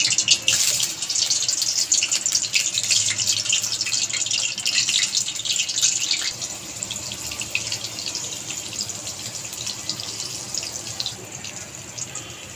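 Oil sizzles and crackles loudly as a boiled (steamed) egg fries in a pan, making a continuous close hiss that slowly fades a little.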